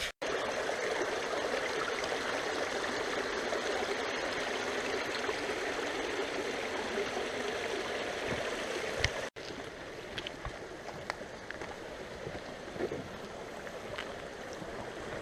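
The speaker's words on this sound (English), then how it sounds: "Creek looks absolutely beautiful." A creek flows steadily along a nature hiking trail, its broadband rushing and trickling water continuous and fairly close, with a brief knock partway through, after which the flow carries on slightly softer.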